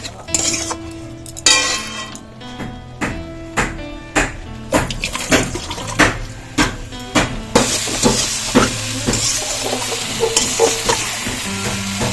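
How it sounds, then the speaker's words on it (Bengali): Young jackfruit curry being sautéed and stirred in a pan, with steady sizzling and frying and repeated clinks and scrapes of a utensil against the pan throughout. "এঁচোড়টা তো কষা হয়ে গেছে"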